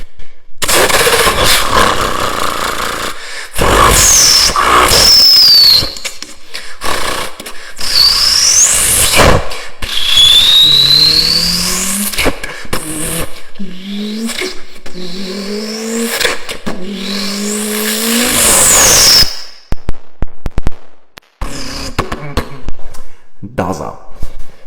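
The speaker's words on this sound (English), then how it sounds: "We're gonna do a German engine compilation." German four-cylinder car engines start and rev in a series of loud, close bursts with rising and falling pitch sweeps, separated by short gaps and brief pauses, with people talking in places.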